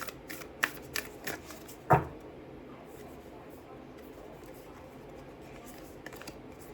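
Moonology Oracle cards being shuffled by hand, several quick riffling flicks followed by a louder snap, then quiet handling.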